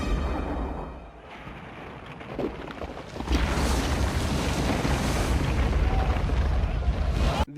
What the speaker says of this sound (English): That was a whole cannon that they just shot that thing with.